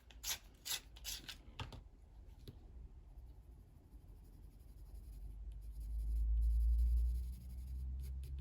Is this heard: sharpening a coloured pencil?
yes